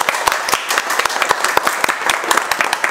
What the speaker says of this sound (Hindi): और एक बार देव सर के लिए ताली बजा दो,